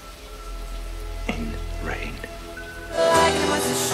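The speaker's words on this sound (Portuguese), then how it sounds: "Lágrimas de chuva molham o vidro da janela" Rain streaming against window glass in a Blade Runner scene, a steady broadband wash that swells louder near the end, with a voice speaking over it partway through.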